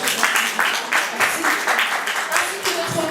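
Audience applause for event sponsors at a Paris show, a crowd clapping in uneven bursts while an announcer's voice carries over the top.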